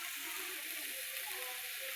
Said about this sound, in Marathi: हे बघा कशी उकळी आली बघू शकता तुम्ही